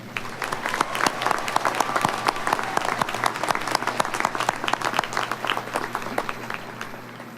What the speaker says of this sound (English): let's give a round of applause to Andrew Burrell